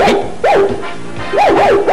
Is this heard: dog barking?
yes